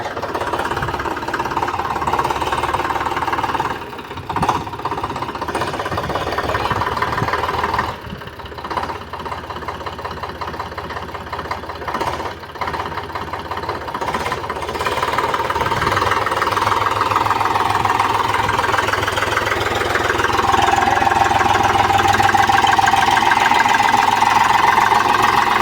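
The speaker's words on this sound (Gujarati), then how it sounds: "આપણો ટ્રેક્ટર નીચે ઉતરી આવ્યો છે એક ડાળિયામાંથી" A tractor engine idles steadily after coming down from a field, a continuous mid-pitched knocking rumble that stays loud throughout and swells slightly toward the end, with no talk.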